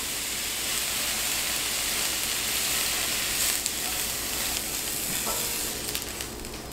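Butter sizzles in a hot pan as shiitake mushrooms fry, giving a steady, loud, close hiss throughout with faint clinks and stirring near the end.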